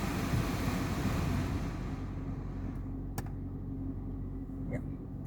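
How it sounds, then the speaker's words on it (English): The cabin blower of a 2023 Suzuki Baleno 1.2 AMT runs on its lowest setting with the windows up, a steady broadband whoosh filling the interior, with a few faint clicks near the end. "there is pretty good fan noise"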